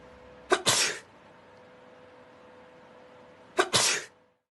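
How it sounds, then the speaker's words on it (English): A person sneezes twice during a laboratory droplet experiment, each sneeze a sharp, loud burst with a quick intake followed by a forceful spray, separated by about three seconds of steady background hum. "First, sneezing."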